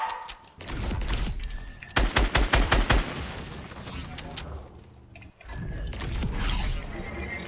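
Rapid pistol gunfire in a video game, a tight burst of sharp repeated shots in the middle, loud and close, with further shooting and game noise before and after.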